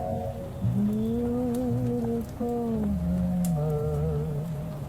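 Steady rain patters throughout while soft old-style music with a sustained melody plays underneath.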